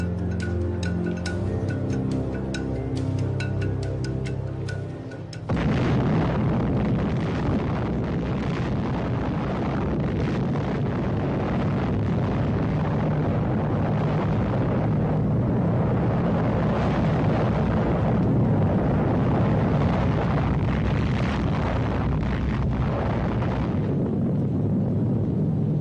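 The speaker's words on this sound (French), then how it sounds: "On l'appelle le gadget, une bombe à implosion contenant 6 kilos de plutonium." An atomic bomb, a plutonium implosion device, detonates: after a quiet tonal lead-in, a massive blast hits and becomes a long, loud, sustained roaring rumble with wind-like turbulence that lasts for about twenty seconds.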